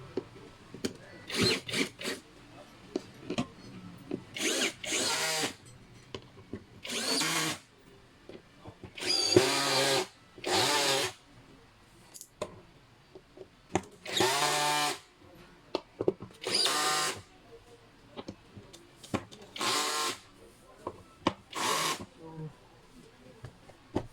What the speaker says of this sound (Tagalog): we're going to tighten the bolt